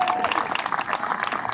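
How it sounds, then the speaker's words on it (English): A crowd claps at an outdoor Memorial Day parade ceremony, a dense, steady patter of many hands that holds across the moment. "if we could get a round of applause again for Noah"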